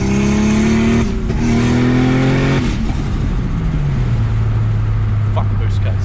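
A Toyota Aristo with a single-turbo swap revs hard and hits boost cut, its engine note climbing and then abruptly dropping twice before settling into a lower drone, loud and close with a rough, fluttering texture.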